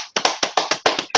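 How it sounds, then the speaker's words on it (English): A few sharp hand claps ring out close by in a loose, uneven rhythm, about eight in quick succession. "clap your hands"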